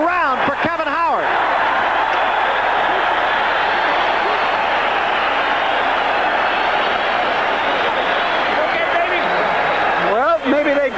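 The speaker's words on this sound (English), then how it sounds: "This crowd is really alive" Boxing crowd at the Sugar Ray Leonard vs Kevin Howard fight roaring and applauding in a sustained, loud wash of cheering, with a commentator's voice heard briefly at the start and end.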